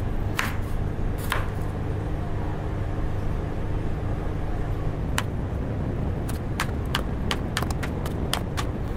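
Petai beans being chopped with a knife while preparing a Malaysian dish: sharp, distinct cuts, a couple early on, then a quicker run of chops near the end, all over a steady low background hum.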